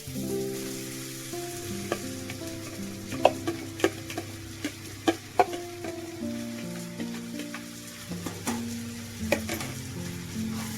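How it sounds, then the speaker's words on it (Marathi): Soybean mince with finely chopped ginger sizzles steadily in a pan on medium heat, with intermittent clinks and scrapes of a spoon stirring it, close and unaccompanied by talk. "सोयाबीन आहे ना चांगलं भाजून घेऊया"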